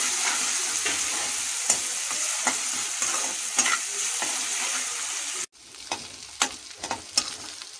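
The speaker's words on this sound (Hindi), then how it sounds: "लहसुन अदरक का पेस्ट जो है वो मैंने फ्राई किया है।" Garlic ginger paste fries in a pan with a bright, constant sizzle as a utensil stirs it, scraping and clicking at intervals, and a short break in the sizzle comes partway through.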